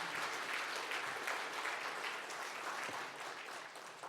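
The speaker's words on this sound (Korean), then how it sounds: "여러분 다시 한번 따뜻한 박수로 공동진료센터의 새로운 시작을 응원해 주시기 바랍니다" An audience applauds at the opening ceremony of a joint medical care center with a dense, even wash of many hands clapping. The applause is heard at a distance and quietly, fading slightly toward the end, with no speech over it.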